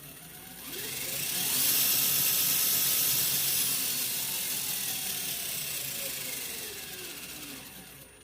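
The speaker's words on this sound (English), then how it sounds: "the motor and tranny systems all working very smoothly" An Axial SCX10 II RC crawler, built as an XJ, runs its electric motor and transmission: a whine climbs in pitch, holds over a hissing, ratcheting gear noise, then gradually winds back down.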